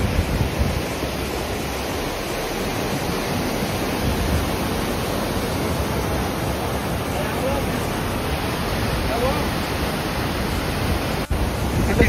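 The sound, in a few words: fast-flowing river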